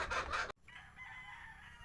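A gamefowl rooster crows loudly and close by in a short, strained burst that breaks off abruptly, followed by quieter background hiss from other fowl in the yard.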